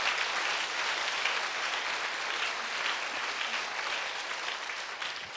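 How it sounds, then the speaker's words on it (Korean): A church congregation at a Sunday worship service gives sustained, dense applause, many hands clapping steadily at moderate distance for several seconds before tapering slightly. "자, 박수로 주님께 영광 돌립니다."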